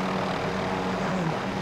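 Helicopter engine drone and rotor noise from a battle-damaged, smoking helicopter in a multiplayer shooter game, a steady continuous roar with no talk.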